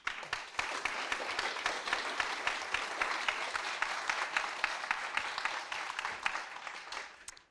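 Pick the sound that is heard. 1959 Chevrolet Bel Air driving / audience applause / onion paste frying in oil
audience applause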